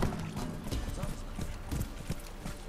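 Horses clip-clopping in the fantasy role-playing game The Witcher 3, a steady run of hoof knocks on hard ground over game ambience, with a voice speaking faintly underneath.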